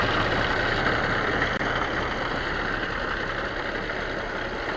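A vintage Hart Parr tractor engine runs steadily with the magneto timing far advanced and badly worn timing gears, giving a continuous loud, rough mechanical drone with a low knocking pulse and no voices.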